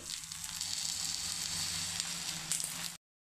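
Hot oil sizzles steadily around a cabbage thalipeeth frying in a pan, a dense, close crackling hiss that holds without pause for about three seconds and then cuts off.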